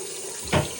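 A brief spurt of water sprays from a tap with low water pressure, a short hissing splash lasting about a tenth of a second over steady background hiss.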